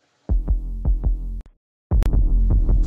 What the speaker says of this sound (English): I designed a little like a wub wub for the sub.